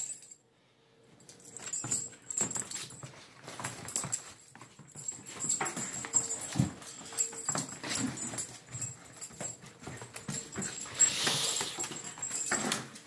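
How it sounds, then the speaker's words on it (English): Quick, scrabbling patter of a dog's paws and claws across a hard floor as it runs with the zoomies, scurrying back and forth with a jingling collar, no one speaking. "It's the zoomies, as most dogs do."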